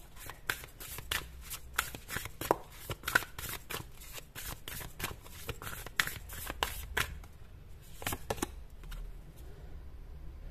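Cards shuffled repeatedly in quick riffling flutters with soft taps as cards are drawn, quiet and close, no talk.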